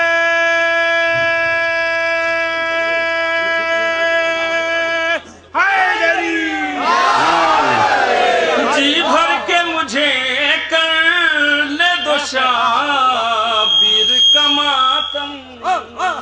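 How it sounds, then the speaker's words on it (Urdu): A steady droning tone holds for several seconds, then a large crowd at a Sajjad Day religious gathering in Badgaon, Allahabad loudly shouts slogans together in rising, overlapping bursts. "نعرے"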